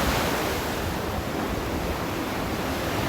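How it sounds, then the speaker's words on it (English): Ocean waves breaking on a beach near Galveston Island, a continuous loud roar of surf mixed with wind buffeting, with no clear gaps and no voices. "these waves are relentless"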